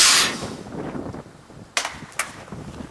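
A pneumatic spud gun fires outdoors with a sharp burst of air, followed by a brief quiet then two distant sharp knocks as the potato strikes a barn, with wind in the background.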